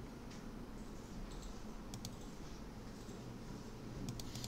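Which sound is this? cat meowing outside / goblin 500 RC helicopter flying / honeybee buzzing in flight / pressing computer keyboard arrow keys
pressing computer keyboard arrow keys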